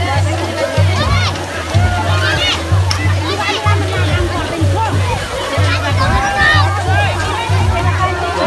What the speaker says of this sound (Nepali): केटाकेटीहरू पौडी खेलिरहेको छ।